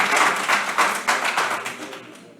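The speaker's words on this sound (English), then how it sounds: "I want to speak about the applause real quick to give everybody a little bit of context." Audience applause at a public planning and zoning meeting, a burst of steady clapping with a few surging peaks that gradually thins and fades over a couple of seconds.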